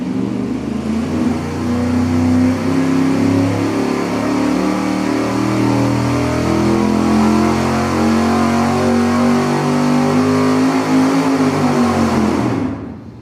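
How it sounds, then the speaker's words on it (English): A 383 V8 engine revs steadily on a dyno during a full pull at 300 RPM per second, a loud, continuous rising roar for about twelve seconds that cuts off abruptly, with no talking. "we're going to do a regular straightforward dyno pull, as we always do, at an acceleration of 300 RPM per second"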